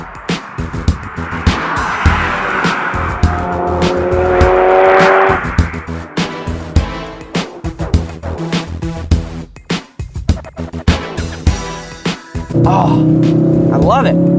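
A Ford RS hot hatch accelerates hard through its gears, engine note rising and dropping at each shift, loud and close inside the cabin, with someone talking over it.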